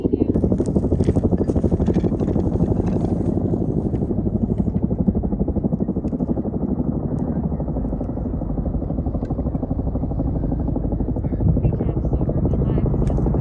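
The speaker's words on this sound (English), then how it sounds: "the choppers are coming in hot over there" Helicopters fly in over a wildfire-fighting area, a steady loud rotor throb and engine roar filling the whole clip without pause.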